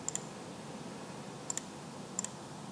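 Mouse buttons click in quick pairs while values are set in circuit simulation software, three crisp double-clicks spaced over a few seconds, close and quiet against faint room hiss.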